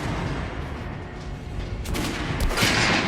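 Gunfire aimed at an armored target dummy in the video game Metro: Last Light Redux: a couple of sharp, loud shots burst out over a dense background din.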